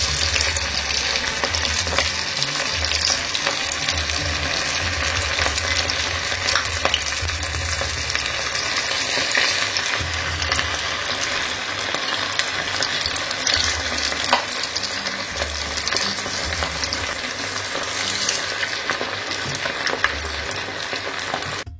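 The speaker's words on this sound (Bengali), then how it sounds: "তেলটা গরম হয়ে আসলে আমরা কিবিগুলো এক এক করে তেলের মধ্যে ছেড়ে দিব।" Kibbeh frying in hot oil, a steady dense sizzle and crackle that carries on unbroken and fairly loud throughout, with no voices.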